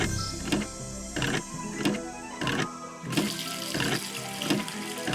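Water runs from a tap in the Nancy Drew game Secret of the Scarlet Hand, a steady gushing stream broken by regular, evenly spaced mechanical pulses, loud and close with no talking.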